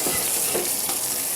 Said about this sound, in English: So we're going to start off with these, the carcasses, and they're going to go inside a nice hot pan